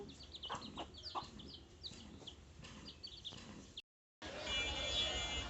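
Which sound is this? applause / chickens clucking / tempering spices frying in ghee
chickens clucking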